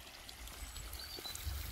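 Water pours and trickles into the skimmer of a large 80,000-litre koi pond, a faint, steady flow with small splashes and bubbly gurgles, no voices.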